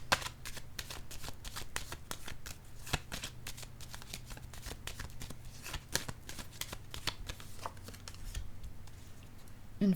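Playing cards are shuffled and drawn from a deck, a fast run of crisp riffling flicks and snaps, close and fairly quiet, continuing steadily with a few sharper slaps near the end.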